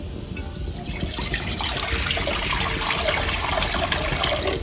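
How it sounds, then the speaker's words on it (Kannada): Water pours steadily into a clay pan being readied for ragi roti dough, a close, continuous splashing and trickling stream that grows fuller after the first second. "ಈಗ ಈ ಮಣ್ಣಿನ ಬಾಂಡ್ಲಿಗೆ ನೀರು ಹಾಕೋಣ."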